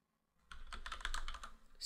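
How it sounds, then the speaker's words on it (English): Typing on a computer keyboard, a quick close burst of key clicks entering an email address into a website login form. "start typing the email address at guest"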